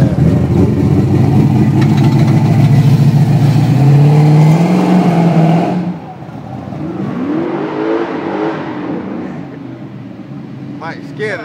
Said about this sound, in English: puts spin on them tires